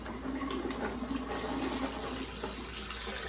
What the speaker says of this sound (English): And then we need to wash the rice cakes.